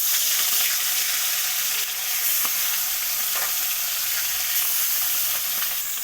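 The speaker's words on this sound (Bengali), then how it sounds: "কড়াইতে তেল দিয়ে সর্ষের তেল দিয়ে আমি মাছগুলো ভেজে" Fish sizzling in hot mustard oil in a kadai, a loud steady frying hiss with faint crackles and occasional stirring scrapes, running continuously with no voices.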